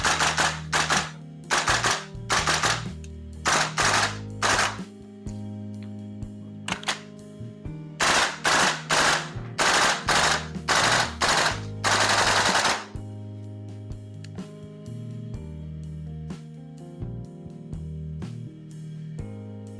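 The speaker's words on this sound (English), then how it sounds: "you'll be pretty happy with how much a stock VFC AR will kick" A VFC M4 gas blowback airsoft replica firing several bursts and single shots, sharp close mechanical cracks in rapid rhythmic strings with short pauses, over background music that continues after the shooting stops.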